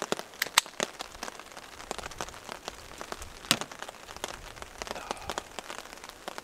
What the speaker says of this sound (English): Rain was coming in under the tarp for a second.